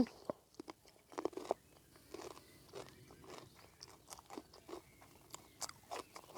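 Crisp bites and crunchy chewing of a sweet, firm Thai cucumber, heard close but fairly quiet as a scattered run of small snaps over several seconds, with no talking.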